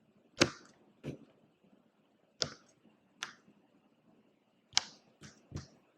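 Bubbles of a silicone pop-it fidget toy being pressed, seven sharp separate pops spaced irregularly over several seconds, close and crisp against near silence.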